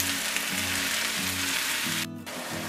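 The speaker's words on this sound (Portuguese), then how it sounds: "a carne moída vai fritando junto com a cebola" Ground beef and onion fry in olive oil in a pan, giving a continuous dense sizzle with low rhythmic stirring or bubbling pulses underneath, close up and alone.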